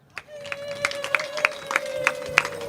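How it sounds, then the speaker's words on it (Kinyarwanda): An audience at a harvest festival gathering in Kamonyi, Rwanda, breaks into rhythmic group clapping, evenly spaced claps over a steady hum from the crowd. "Tumukunde Marie Yvonne, twese tumukomera amashyi di"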